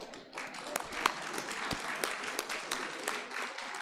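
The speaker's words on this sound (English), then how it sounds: "Please, a round of applause." A round of applause rises from the audience at a radiology alumni meet, a fairly faint, continuous patter of many hands with voices murmuring beneath.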